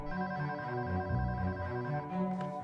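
A telephone rings with a steady electronic trill that repeats in even pulses, heard close and clear with no talking.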